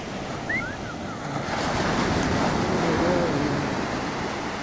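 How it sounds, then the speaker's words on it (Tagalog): Big ocean waves roll and crash on the surf at Bauang Beach in La Union, a loud, continuous roar that swells and stays heavy through the clip, with wind noise on the microphone and faint voices under it. "Grabe na lang ng alon"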